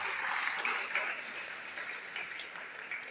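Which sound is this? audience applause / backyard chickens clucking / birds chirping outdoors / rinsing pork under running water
audience applause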